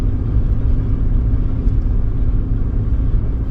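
A vehicle drives by on a road at night, a steady low rumble and whir of its engine and tyres holding at moderate loudness throughout without any talk.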